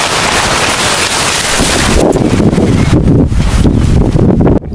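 Strong wind during a mountain storm, a loud roaring rush buffeting the microphone continuously with gusting surges and no voices.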